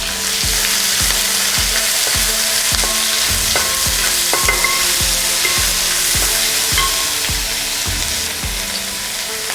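Thinly sliced onions frying in a pot for Kerala-style beef curry, steady loud sizzle with a regular rhythm of spoon stirring and scraping strokes, close up.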